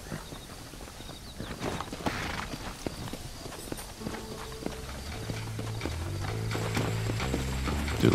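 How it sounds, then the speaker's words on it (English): Horse hooves clip-clopping in the video game Red Dead Redemption, a soft, steady walking rhythm with faint mechanical clicks, joined midway by low sustained music tones. "Should be some horses for us across the way."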